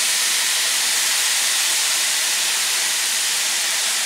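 Soy sauce hits a hot wok of green beans and flares into a loud, broad, continuous hissing sizzle that holds steady throughout.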